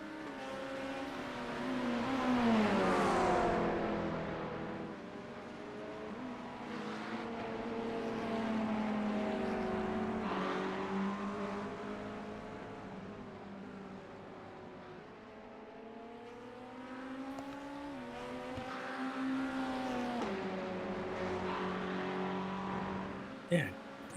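Race car engines, a Corvette and McLarens at Spa-Francorchamps in a sim racing series, drone continuously at a moderate distance, rising and falling in pitch as they pass, under steady commentary talk.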